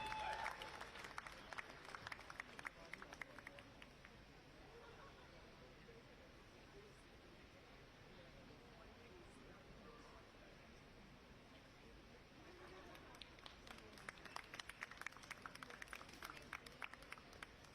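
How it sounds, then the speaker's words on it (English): Audience applause at a fashion institute convocation ceremony in Mumbai, loudest at the start, easing to a steady wash of clapping through the middle and swelling again toward the end. "Please give a big round of applause for her"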